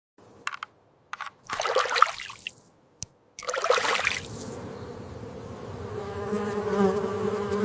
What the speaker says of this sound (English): The buzzing comes from the rapid beating of their wings about 200 times per